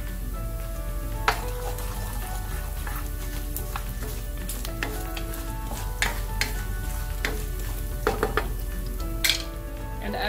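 Garlic and fennel seeds fry in oil with a steady close sizzle, broken by repeated scrapes and clinks of a spoon stirring against the pan throughout.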